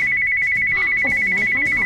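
A phone ringtone sounds a steady, loud electronic trill that runs unbroken through the whole moment, with voices and movement faintly underneath.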